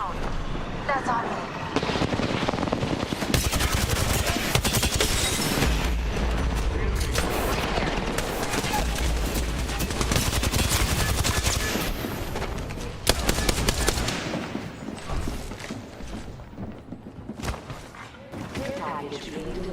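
Video game gunfire in a squad shooter, dense bursts of automatic fire and sharp reports rattling across most of the stretch, with in-game voice callouts between, thinning toward the end.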